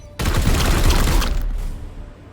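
Heavy bolter gunfire from the Chaos Gate: Daemonhunters video game, a loud dense burst of booming shots rolling for about a second before fading into a lingering tail.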